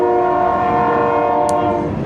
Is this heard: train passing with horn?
yes